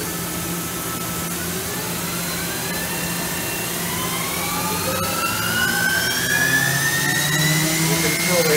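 A 2002 Mazak FH6000 horizontal machining center runs at high spindle speed, a steady loud whine with rising tones layered over a constant mechanical drone throughout, with a voice briefly present.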